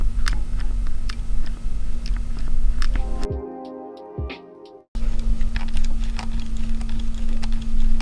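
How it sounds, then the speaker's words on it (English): Anbernic RG505 handheld's left Hall-effect analog stick clicking as it is moved around, a run of sharp, close, irregular ticks and clicks over a steady background hum, briefly cut out in the middle. "the left analog sticks make some clicking noises when I move it around."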